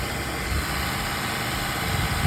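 A car engine idles steadily while Seafoam cleaner is drawn into it during maintenance, a constant low rumble with a faint vibrating hum and slight dips in tone, heard up close with no talking.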